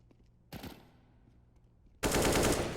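Automatic gunfire rings out in Counter-Strike: a short burst, then a louder sustained spray of rapid shots close by.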